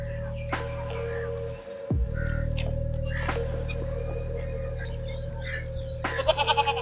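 A goat bleats in short bursts near the end over a steady low hum and background noise, with earlier faint calls scattered through a rural scene involving a stolen goat.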